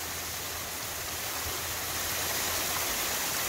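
Water rushing down a trail in the southeastern United States, a steady broadband roar of flowing runoff, close and even, with no voices.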